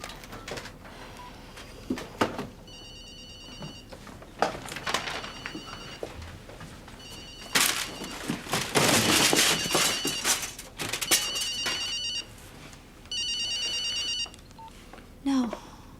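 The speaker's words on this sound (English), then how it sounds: "I want to ring the mobile number of the 2 text messages." A mobile phone rings in a police drama scene with repeated bursts of electronic ringing spread across the clip, mixed with bumps, rustling and background movement.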